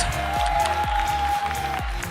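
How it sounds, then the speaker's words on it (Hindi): Audience of about 3000 at a motivational talk applauding a participant named Maruti, a dense wash of clapping with a steady tonal hum and faint low thumps beneath, moderately loud and continuous. "जोरदार तालियां for Mr. Maruti, please."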